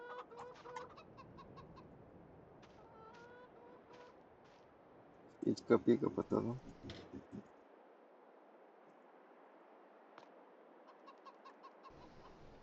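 Chickens in Farming Simulator 22 cluck and chirp in short bursts, with a louder flurry midway, while people talk quietly over the game sounds.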